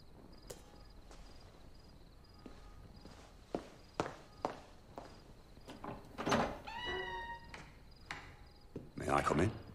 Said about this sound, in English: Arya, open the door.